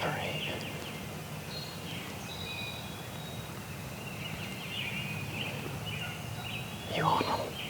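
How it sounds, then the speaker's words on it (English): A wild turkey gobbler gobbles once, a rattling call rising out of a steady outdoor hiss near the end. It sounds moderately distant. "That big gobbler right there."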